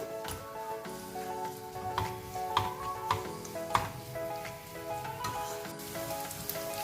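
Grated potato sautéing in ghee for potato halwa, a steady soft sizzle dotted with faint crackles and ticks, with a quiet tonal hum behind it and no talking.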